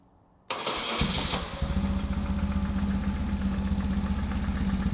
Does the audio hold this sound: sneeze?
no